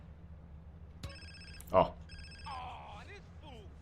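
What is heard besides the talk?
phone ringing in GTA San Andreas video game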